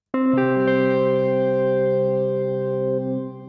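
A guitar note through a Nembrini shimmer delay with level and regeneration set very high swells into a thick, sustained shimmering delay, its repeats stacking into a dense, bright ringing wash that slowly fades.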